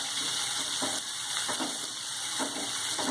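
French beans and carrot stir-fried in a hot pan for Schezwan fried rice, a constant close sizzle with spatula scrapes and stirs every half second or so.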